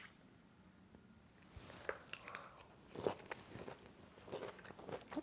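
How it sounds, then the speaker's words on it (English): Chewing a mouthful of salad with peach and onion, soft crunchy bites sounding close and quiet in a short run of irregular chews, with no talk. "I'm gonna give it a taste."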